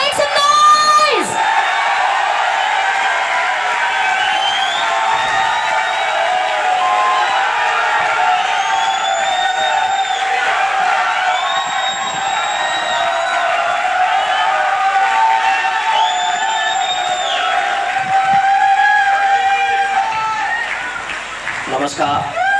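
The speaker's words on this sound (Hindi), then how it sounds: "शोर भी, come on, make some noise." A huge audience at a network marketing diamond-rank event in India cheers nonstop, a loud roaring wall of crowd noise topped by repeated whoops and shrill rising yells across the whole stretch.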